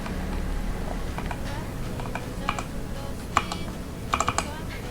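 Keystrokes on a YK-600 wireless mechanical keyboard with per-key RGB, heard as scattered clicks and short rapid bursts over a steady background hum, with no talking.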